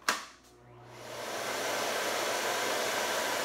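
A sharp click, then a motor whirs up into a steady, loud airy roar that holds evenly, like a vacuum cleaner running up close.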